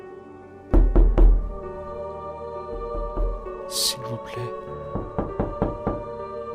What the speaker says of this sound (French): Le coup retentit à nouveau, un peu plus fort cette fois-ci.